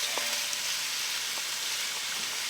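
Steady sizzling of sausages and vegetables frying in a hot pan, a constant hiss with a few faint clinks, no talking.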